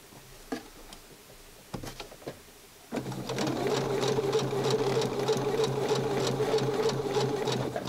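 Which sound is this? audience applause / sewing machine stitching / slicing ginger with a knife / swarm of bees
sewing machine stitching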